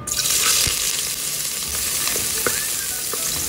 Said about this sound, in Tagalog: Mainit na po ang ating kaldero, maglalagay na tayo ng oil. Lagay na natin yung ating luya.